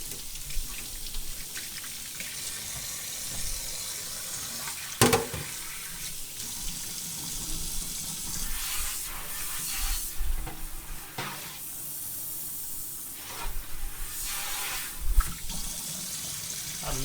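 Tap water running into a kitchen sink during cleanup after preparing pork for a roast, a steady hiss with clattering of dishes and pans and occasional knocks, close by, no talking.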